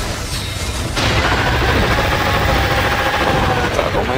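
An explosive skill effect goes off in Monster Hunter Rise: Sunbreak during an elevated Shagaru Magala hunt, giving a heavy burst of booming, crackling game noise that fills most of the clip.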